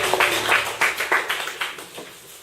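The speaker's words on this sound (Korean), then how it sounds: "하나님께 영광의 박수를 드리겠습니다" A church congregation at a Korean service claps for several seconds in distinct, fairly even waves. The applause is moderately close and stands alone with no talk over it.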